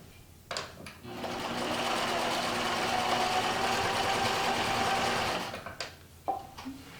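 A sewing machine runs in one sustained, even stretch of stitching on a quillo, framed by short clicks and handling sounds of fabric being adjusted before and after.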